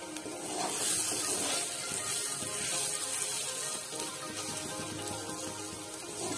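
Ridge gourd paste is stirred and cooked in a pan for jhinge bata, a steady sizzle and hiss with soft scraping and clinking of the spatula, alone and without talk.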